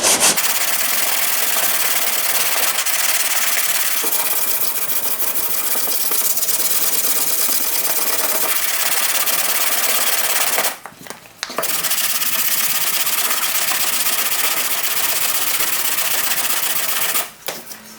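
Dual action sander working a 2012 Chevy Impala body panel down to bare metal with 40 grit paper, a steady loud whirring grind running almost throughout, cutting out briefly twice.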